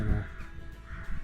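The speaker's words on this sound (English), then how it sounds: "so loads and loads of birds out tonight" Birds, crow-like, give hoarse caws at an RSPB nature reserve in the evening, brief and moderately distant over faint outdoor background.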